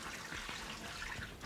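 Soaked almonds being rinsed under running water, a steady close splashing and trickling wash lasting the whole short moment with no talk.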